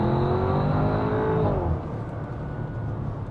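A 2026 Audi SQ7 performance SUV accelerating hard on the throttle, a close, loud engine note rising in pitch before shifting and settling into a steady roar.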